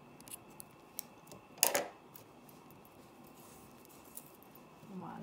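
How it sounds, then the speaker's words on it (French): Scissors cut brown yarn for a crocheted baby Yoda keychain: one quick, close snip in an otherwise quiet room, with a few faint ticks around it. "Je vais couper mon fil marron."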